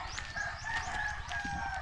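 A rooster crows over steady outdoor background noise, its call rising and falling across the short stretch with no talking.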